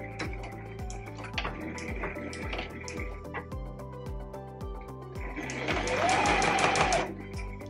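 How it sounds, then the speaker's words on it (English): A sewing machine stitches around a fabric pouch in short runs of rapid, even thumps, close and fairly quiet, with brief pauses and a louder stretch toward the end. "back on the machine, and we'll stitch all the way around."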